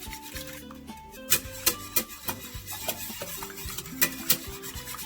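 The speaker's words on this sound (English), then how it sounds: "Give it a good whisk." A whisk beats eggs and milk for French toast in a bowl, with steady rapid scraping strokes and brisk clinks against the sides, loud and close, with no voices.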